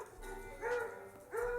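A dog gives soft, high whining whimpers, two short rising whines with a brief gap between, fairly close and fairly quiet against a low background hum.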